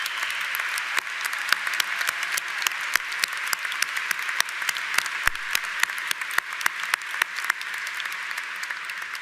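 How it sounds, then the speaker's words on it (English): A commencement audience applauds faculty and librarians, steady dense clapping with many sharp individual claps that stays loud for the whole stretch. "Please join me in applauding them."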